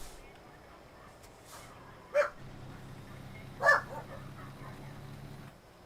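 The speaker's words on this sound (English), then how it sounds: "I have to go see why my dogs are going absolutely batshit crazy at the moment." Two sharp dog barks ring out in the distance within a quiet room, spaced about a second and a half apart over a faint steady hum.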